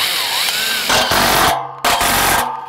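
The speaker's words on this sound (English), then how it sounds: "So we'll get this one screwed in first because we know that this one is plumb right now." A power drill drives a screw into steel framing for a garage door header, the motor whirring loudly in two bursts with a brief pause between, close and alone with no talk.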